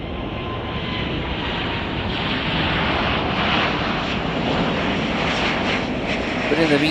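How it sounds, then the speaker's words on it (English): A KLM airliner bound for Amsterdam takes off at Chicago O'Hare with a loud, sustained jet engine roar that swells slightly toward the end, heard close and steady. "As we watch KLM Flight 612 take off to go to Amsterdam."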